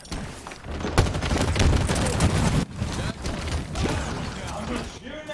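Gunfire in Halo Infinite multiplayer, loud bursts of rapid shots and impacts with mechanical clatter, breaking off briefly mid-way before resuming, with a voice talking over the action.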